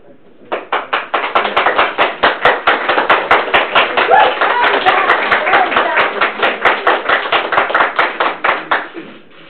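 Small group of council meeting attendees clapping in a chamber, a fairly sparse, clearly separated run of hand claps lasting about nine seconds, close and bright, fading out at the end.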